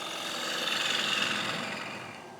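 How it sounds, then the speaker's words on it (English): A gouge cuts into a wooden bowl spinning on a woodturning lathe, producing a steady, close, broadband scraping hiss that swells slightly in the middle and eases off toward the end. "at the end dig the gouge in a little bit like that, and then that gives you a little starting point to go in"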